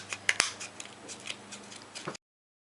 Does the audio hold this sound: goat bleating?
no